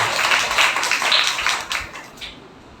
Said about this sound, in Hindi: ताली बजाना बड़ा तंदुरुस्त लगता है